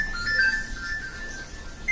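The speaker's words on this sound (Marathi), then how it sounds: "फोन आला तुमचा." A mobile phone ringtone plays steadily, a bright electronic melody ringing clearly over a faint background hum, with no voices.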